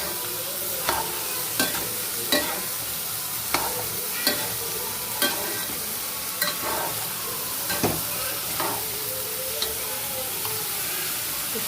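Mango pieces for a quick pickle sizzle in a hot pan, steady frying hiss broken by roughly ten sharp scraping stirs at an uneven rhythm, close and clear.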